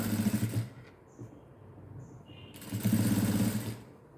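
A sewing machine stitches piping onto a neck piece in two bursts of rapid mechanical whirring, with a brief quieter pause between them.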